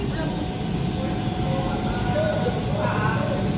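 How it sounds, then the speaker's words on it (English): An amusement park ride train rolls along steadily, a continuous rumbling drone of wheels and motor heard from on board, with faint higher squeaks near the end. "Riding on a train."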